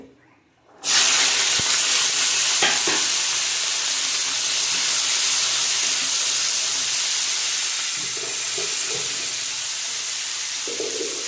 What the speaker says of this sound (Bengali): সবজিগুলোকে ভালো করে ভেজে নেব